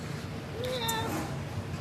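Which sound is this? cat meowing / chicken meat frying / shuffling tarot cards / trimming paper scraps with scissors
cat meowing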